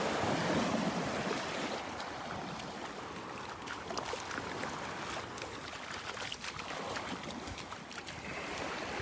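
Small waves and gentle ripples lapping at Delnor-Wiggins beach, a steady soft wash of surf mixed with wind buffeting the microphone, no voices.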